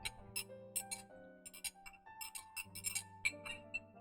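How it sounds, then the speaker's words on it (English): A metal straw clinks lightly against a coffee cup, sounding as a series of small, bright taps scattered through the moment. Steady tonal background music plays underneath, and the whole scene is quiet. "that is my metal straw clinking on my cup."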